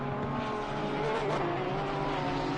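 Porsche race car in the racing game ACC at Zandvoort, a steady engine drone with harmonic tones and faint tyre noise, continuous and fairly close with no talking.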